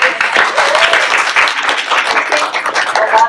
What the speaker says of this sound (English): Can we get a round of applause to Miranda